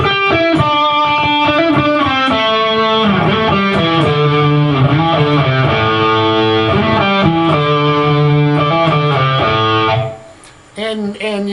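A distorted electric guitar plays a quick, dense riff of bending, sliding notes, loud and continuous, cutting off near the end into a brief quieter tail.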